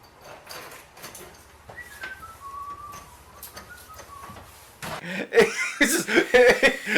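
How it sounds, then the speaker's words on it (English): A round-cheeked man whistles a short, wavering tune in a low-budget Nightmare fan film. The whistle is moderately loud over a quiet room and is followed by louder clattering, thumping noises. "he's always whistling."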